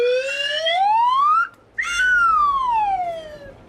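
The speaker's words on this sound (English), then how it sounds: "Play the slide whistle noise." A slide whistle sweeps upward in pitch, breaks off for a moment, then slides back down in one long glide, loud and alone with no talk.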